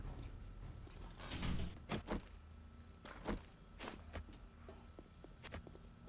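A door shutting in the 7 Days to Die survival game, heard as a few scraping and thudding knocks and footsteps spread over several seconds, with faint tones and quiet game ambience behind.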